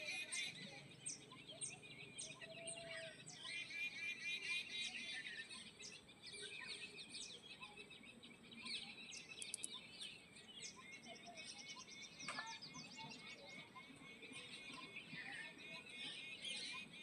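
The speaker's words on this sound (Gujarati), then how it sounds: "સાંભળો ગામડાનો અવાજ, આવો હોય ગામડાનો અવાજ. પક્ષી બધા બોલતા હોય મીઠા જોરદાર" Birds in a village chirping and tweeting in quick bursts against a soft outdoor background, with a faint hum of insects throughout.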